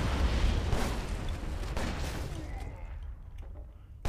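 Gunfire and explosions in the video game John Woo's Stranglehold, with a dense, continuous roar of shots and booms that slowly fades out near the end.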